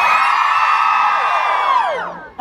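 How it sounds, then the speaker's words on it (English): A theme park audience at the Indiana Jones Epic Stunt Spectacular in Disney's Hollywood Studios screams and cheers in one loud, sustained chorus of high voices that holds steady, then trails off near the end. "All the ladies scream!"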